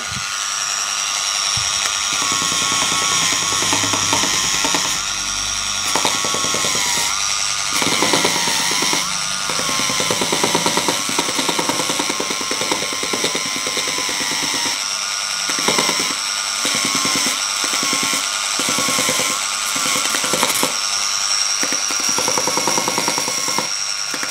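A Proxxon BS/E belt sander running at its lowest speed gives a loud, steady mechanical whine and whir, with uneven grinding and rattling as it works the material.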